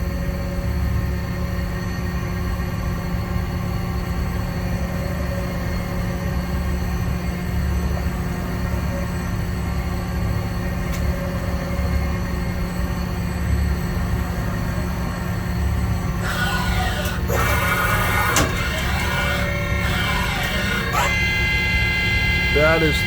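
The spindle of an OKK VP600 four-axis vertical machining center runs at a steady whine, with a constant low mechanical hum and tonal drone, then louder, busier bursts of machining noise near the end; someone talks over parts of it.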